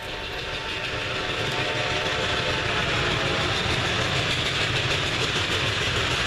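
Reading and Northern steam locomotive 2102 thunders through Nesquehoning while climbing the grade out of the Lehigh River Gorge, a loud, steady roar of engine and rolling cars with rail clatter filling the whole stretch, no talk.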